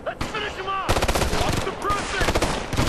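Rapid gunfire crackles in bursts during a Ghost Recon Future Soldier firefight, loud and close with overlapping shots and game sounds.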